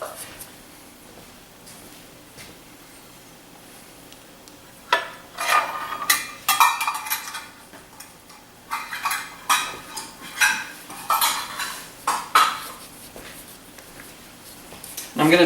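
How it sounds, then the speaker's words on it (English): A floured cookie cutter cuts biscuit dough: after a quiet start, a run of sharp taps and clattering knocks against the board and pan, spaced irregularly, with a voice talking throughout. "now I'm going to take a cookie cutter. I'm going to put just a little flour around the edge just to keep it from sticking"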